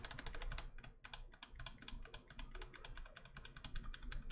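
Rapid typing on a mechanical keyboard fitted with BOX Royal switches gives a fast, continuous stream of close, sharp, plasticky key clacks with no pauses, alone without speech.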